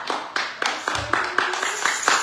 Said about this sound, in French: Donc, on va l'applaudir